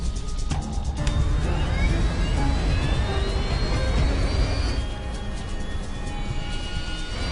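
A passenger jet's left engine ignites mid-air during an emergency descent toward an airport, a loud steady engine roar with rising whining tones that climb and sustain through the clip, no voices.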